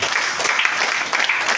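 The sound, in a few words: audience applause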